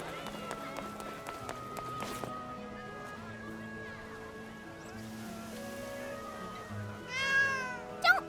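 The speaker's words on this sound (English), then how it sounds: "It's just a cat." Cat meowing in the Granblue Fantasy video game, a short rising meow near the end over game music and effects, fairly faint beneath the soundtrack.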